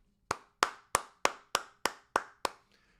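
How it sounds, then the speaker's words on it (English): Hand clapping, eight sharp, evenly spaced claps close to the microphone, alone in a quiet room with no other sound between them. "Hold on, brother. I'm clapping for you."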